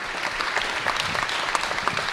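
Audience applause at a citizens' hearing with politician Sandrine Rousseau, a dense, steady wash of many hands clapping at moderate loudness with no voices over it.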